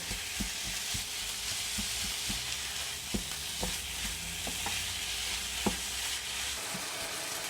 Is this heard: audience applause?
no